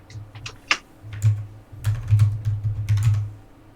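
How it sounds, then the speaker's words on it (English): Someone types on a computer keyboard while video-chatting during a Magic: The Gathering Commander game, giving scattered soft key clicks over a low steady hum from the call. "I'm typing the card cam"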